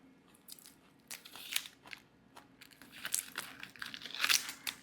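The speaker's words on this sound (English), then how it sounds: "And you're looking to peel it back to get to the actual tender part of the onion" The papery outer layer of a halved onion peels away in soft, quiet crinkles and crackly snaps, in scattered bursts that build louder toward the end.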